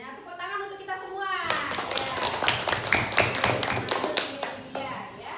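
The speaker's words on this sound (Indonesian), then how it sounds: "Tepuk tangan untuk kita semua." A group of children clap hands together in an Indonesian classroom after singing the national anthem, the claps dense and uneven from about a second and a half in, with young voices chattering underneath.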